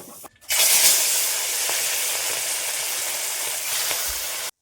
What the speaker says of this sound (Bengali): এখন মাছগুলো ভেজে নিচ্ছি